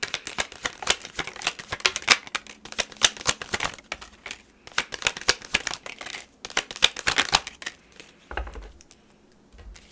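Tarot cards are shuffled by hand in rapid riffling bursts, crisp papery flutters that come close and moderately quiet, with short pauses between rounds and no talking.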